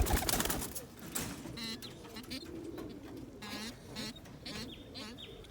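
Mookie pigeons cooing nearby, soft repeated throaty coos over faint background rustling, with occasional flutters and higher calls.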